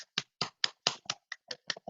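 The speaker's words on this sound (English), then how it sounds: "let's give her a round of applause" Sparse, separate hand claps from a small audience at a Toastmasters club meeting, about ten distinct claps in under two seconds, moderately quiet, with no talking.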